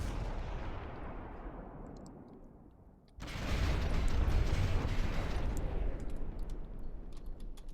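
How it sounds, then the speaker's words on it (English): A continuous, heavy rumble of video game cannon fire and explosions from cram cannon shells fades briefly, then surges back louder as a dense barrage of booming blasts. "Barrage after barrage of cram shells."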